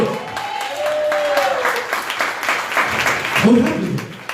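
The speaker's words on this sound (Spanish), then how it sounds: "Denle un aplauso al Señor." A church congregation claps for the Lord, a steady wash of applause over about four seconds with voices mixed in.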